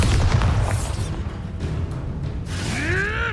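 A Bombarda blast spell in the video game Hogwarts Legacy: a heavy, booming burst with a whooshing, crackling tail, followed by rising magical chimes amid ongoing combat noise.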